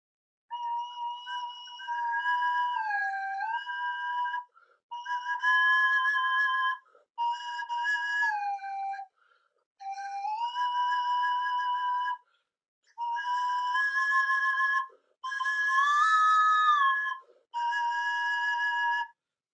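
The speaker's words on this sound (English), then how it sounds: "One is a drone flute that is stationary, and the other one is the non-stationary, is the slide." A double flute, one pipe holding a fixed drone while the other slides in pitch, plays together in about eight sustained, breathy whistle-like phrases separated by short pauses, close and clear.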